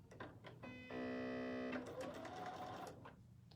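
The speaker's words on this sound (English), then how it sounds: "I also can just start stitching and the presser foot will go down." A Bernina sewing machine stitching, a fairly quiet, fast, even mechanical whir that starts, runs for about a second, then stops, with faint handling noise before and after.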